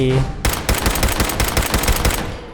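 Rapid automatic gunfire in Fallout 4, a loud close burst of shots fired in quick succession for about two seconds after a short lead-in.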